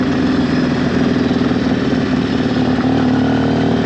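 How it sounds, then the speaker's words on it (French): A motorcycle engine runs steadily at low revs, close by, with an even, throbbing hum and no change in pitch throughout. "Là j'essaye de faire des tests à bas régime, voir si elle se noie."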